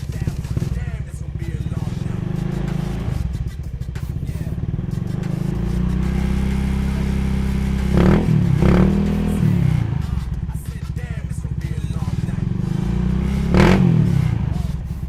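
A Honda BeAT FI scooter with an aftermarket fuel pressure regulator idles steadily up close, broken by a few short throttle blips that rise and fall.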